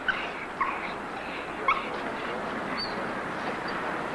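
Several dogs at a dog show give brief, sharp barks and a few yips and whimpers. They come in scattered bursts over a steady crowd and hall murmur, at moderate distance.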